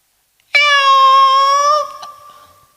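A voice imitates a cat, holding one loud, clear, drawn-out meow that fades at the end, close and alone.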